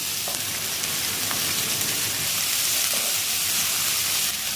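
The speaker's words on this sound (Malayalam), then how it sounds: "സവോള ചേർക്കുന്ന സമയത്ത് കുറച്ച് ആവശ്യത്തിനുള്ള ഉപ്പൂടെ ചേർത്ത് കൊടുത്ത് നന്നായിട്ടൊന്ന് വഴറ്റിയെടുക്കുക." Sliced onions with salt sautéing in a pan for an egg chutney, a continuous close sizzle with soft stirring scrapes, steady and fairly loud with no talk.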